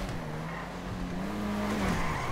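Race car spinning out during a GTA video game race at Sonoma Raceway, tires squealing in a sustained skid over engine drone, fairly close and without talk.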